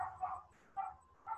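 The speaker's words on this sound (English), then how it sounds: "Again, excuse for the dog noises." A dog barks three times in a steady rhythm, each bark moderately close and fairly loud, with brief pauses between them.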